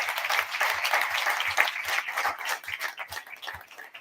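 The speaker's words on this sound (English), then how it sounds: "can we give a round of applause for all of our panelists?" An audience applauding panelists at a California racial equity commission gathering, many hands clapping in a dense continuous wash with a few louder individual claps standing out, with no talking.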